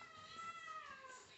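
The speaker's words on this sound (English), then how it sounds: "Even though she may be meowing at me" A house cat meowing, a drawn-out plaintive cry that wavers in pitch, fairly quiet and close against a soft room background.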